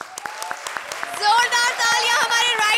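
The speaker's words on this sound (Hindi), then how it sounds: "I would like to give them a clap" A short burst of studio audience applause for a comedy show's writing team, dense clapping swelling over a few seconds, following a voice over light background clapping.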